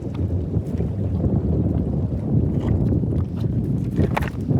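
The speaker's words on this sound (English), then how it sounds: "You might not be able to hear us too well over that water." Water washing over a rocky shore among tide pools, a steady broadband rush with wind buffeting the microphone, continuous and close throughout.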